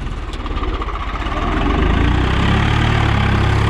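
A Swaraj 744 FE tractor pulling a cultivator sends out a loud, close diesel rumble with a steady low throb that builds and firms up under load after the first second and a half, with no voices.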